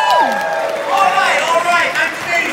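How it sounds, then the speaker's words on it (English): A live audience at a movie trivia show cheers and whoops over scattered applause, with a raised voice gliding through the crowd noise across the whole stretch. "can we have some applause if you were alive in the 1980s?"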